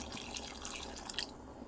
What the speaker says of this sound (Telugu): నాకు ఇంకొంచెం గ్రేవీ కావాలి, దానికోసం నేను హాట్ వాటర్ పోస్తున్నానండి.